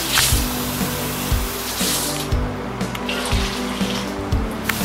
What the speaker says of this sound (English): And then you put in 2 cups of warm water.